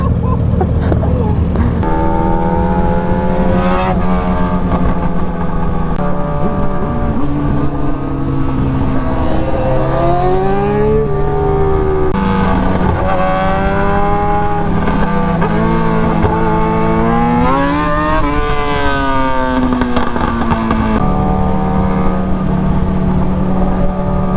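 A Yamaha FZ1 and R6 ride fast, their engines revving hard and close with repeated rising and falling whines through gear changes, loud and continuous throughout, a voice occasionally audible beneath the engine noise.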